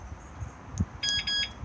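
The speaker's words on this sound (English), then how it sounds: "when I press it, one single beep is armed" An arm/disarm button on a caravan alarm fob gives one short electronic beep when arming, a few bright tones heard alone and close after a soft click.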